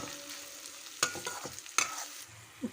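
Lentils and tempering spices frying in a pan for bitter gourd curry, a soft sizzle broken by a few sharp scraping strokes of a spoon as they are stirred, close and without talk.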